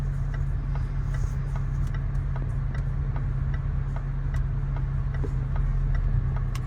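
A 2017 Range Rover cruises on the road, heard from inside as a steady low engine and road hum, with faint regular ticking clicks throughout and no talk.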